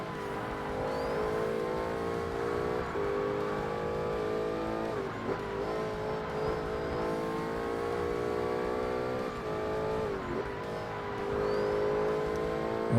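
A Forza Motorsport R-P1 class race car engine, loud and sustained, rising through the revs with brief dips at each gear shift and lift-off over about thirteen seconds.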